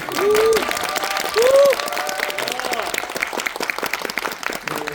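A cinema audience at a film talk applauds the director, a sustained round of clapping with a voice speaking over parts of it.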